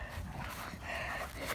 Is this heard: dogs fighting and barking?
yes